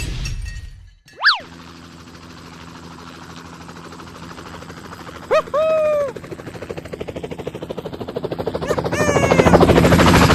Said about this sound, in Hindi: ये हेलीकॉप्टर लेके भाग रहा है